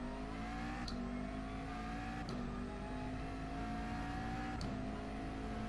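McLaren race car in a GR3 racing game at Spa, its engine droning steadily at high revs with rising pitch sweeps and brief gear-change cuts, continuous and close with no voices.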